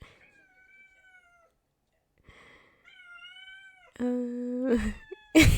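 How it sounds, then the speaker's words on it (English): A pet cat meows and cries indoors in a string of close, drawn-out calls, soft at first and then louder and more insistent near the end. "You can hear my cat. I just heard my cat."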